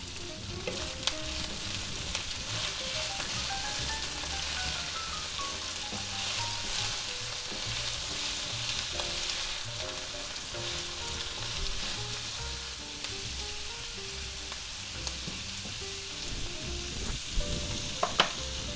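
Cabbage cooking in a pan gives a continuous soft sizzle and hiss throughout, fairly quiet and even, with a few faint clicks and a brief knock near the end.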